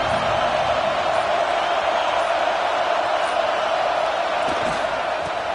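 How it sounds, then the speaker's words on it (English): Dense, continuous roar of a large home crowd cheering at a distance at a football game, steady and loud throughout. "this home crowd is fired up and ready to make a difference today"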